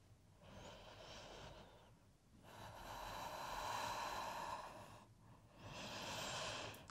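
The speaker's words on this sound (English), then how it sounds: "Just breathing in and out through the nose." Slow, quiet breaths drawn in and out through the nose during a yoga flow: a soft inhale, a brief pause, then a longer airy exhale, close and gentle.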